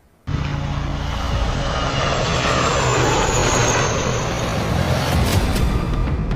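A loud, steady roar of an Indian Light Combat Helicopter that starts abruptly and holds at full volume throughout, close and continuous with a broadband rumble.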